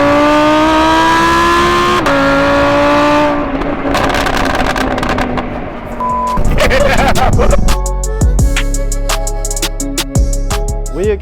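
An Audi R8 engine on a dyno holds a loud, high sustained drone, then falls away into repeated sharp revs and crackles, close and powerful, with a voice speaking briefly.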